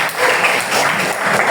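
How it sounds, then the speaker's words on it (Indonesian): A classroom of students claps at the end of a mathematics lesson, a brief, loud, dense burst of applause that holds steady for the whole moment. "beri tepuk tangan untuk kita semua"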